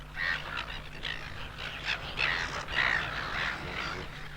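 A breeding seabird colony of crested and Caspian terns, pied cormorants and fairy penguins on an island, with overlapping harsh squawks and calls rising and falling in a dense chorus.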